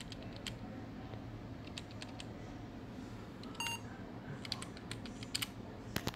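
Keys clicking on a Samsung RV410 laptop keyboard during BIOS setup after a southbridge chipset repair, with sparse, quiet taps over a low hum and a brief electronic beep midway.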